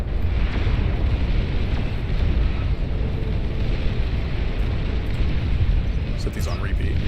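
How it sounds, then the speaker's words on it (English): Missiles launching in Beyond All Reason, a dense continuous roar of rocket volleys and distant blasts rumbling low and steady throughout, with a few sharper pops near the end. "Launch away, my little missile friends."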